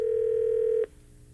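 A single steady telephone tone sounds loud and unbroken for almost a second, then cuts off abruptly into quiet line hiss.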